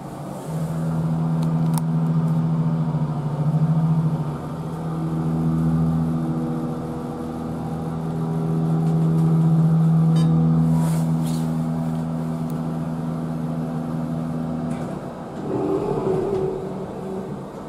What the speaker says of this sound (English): Now let's listen to this motor.